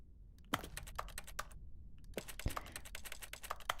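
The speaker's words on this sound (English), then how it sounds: "every single time I click my mouse, it looks like I'm it sounds like I'm typing something" Rapid clicking of a computer mouse while playing The Stanley Parable: Ultra Deluxe, sharp clustered clicks in quick bursts that sound like keyboard typing, close and alone with no talk.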